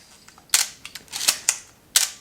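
A Canon AE-1 or Olympus OM-10 film SLR camera fires its shutter several times in a quick irregular series of sharp, close mechanical clicks with fainter handling clicks between them.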